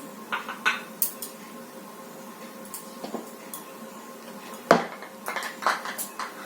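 Bowls and spoons holding homemade hair oil ingredients are set aside on a hard surface, giving light, scattered clinks and taps with a sharper knock near the end, all fairly quiet.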